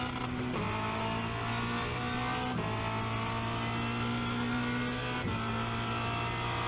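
A Formula Renault 2.0 race car at Spa-Francorchamps, its engine droning loud and close from the cockpit, with steady revs that climb and then dip sharply at three quick gear shifts.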